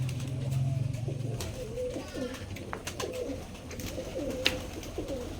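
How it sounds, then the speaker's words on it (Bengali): Pigeons coo in soft, repeated low warbles, close by, over a murmuring background with a few faint clicks. "ছাড়িয়ে দেন মানে নতুন কালেকশন করা কবুতর"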